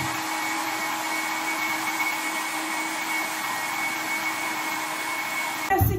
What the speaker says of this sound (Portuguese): Agora eu vou secar meu cabelo com esse mini secadorzinho de cabelo